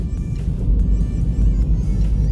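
A taxi car drives along with a loud, steady low engine and road rumble from inside the cabin, with no one speaking.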